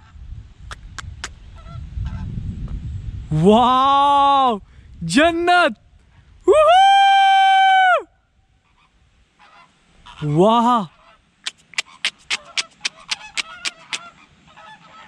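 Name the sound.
large flock of birds calling overhead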